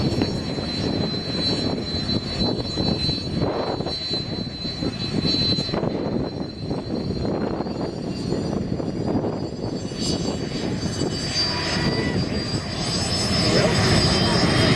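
Jet aircraft taxiing on the runway at the Wings over Illawarra airshow, Illawarra Regional Airport. A loud, steady engine roar and whine fills the whole stretch, swelling slightly near the end.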